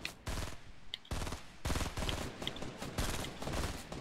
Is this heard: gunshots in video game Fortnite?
yes